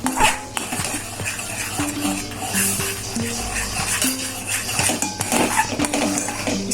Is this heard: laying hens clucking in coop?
no